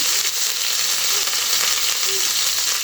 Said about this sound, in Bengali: প্রথমে দিয়ে দিচ্ছি পেঁয়াজ বাটা, এরপরে দিয়ে দিচ্ছি রসুন বাটা